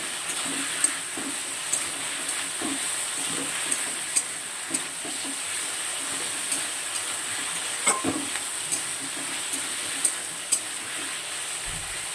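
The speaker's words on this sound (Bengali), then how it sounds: "দেখো সমস্ত মশলা দিয়ে কষানো হয়ে গেছে।" Spices with cumin and ginger pastes fry in a pan, a constant close sizzle broken by regular scraping stirs of a spoon.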